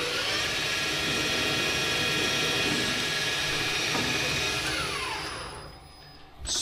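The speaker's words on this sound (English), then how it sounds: "Use the center drill to make a mark." A steady mechanical whine of a center drill marking metal on a lathe runs for several seconds, then winds down near the end.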